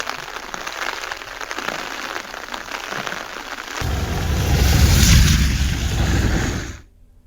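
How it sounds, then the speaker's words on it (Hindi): Heavy rain pours onto flooded streets and lanes in Hardoi, a steady hiss that swells into a louder, rushing wash of water before cutting off abruptly. "हरदोई में भारी बारिश की वजह से सड़कें और गलियां जलमग्न हैं।"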